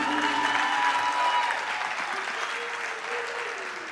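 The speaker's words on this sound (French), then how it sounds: "Est-ce qu'on peut applaudir pour Sanza Design" Concert audience at the Institut Français du Congo clapping steadily, a dense wash of applause with faint crowd voices and lingering tones, slowly tapering.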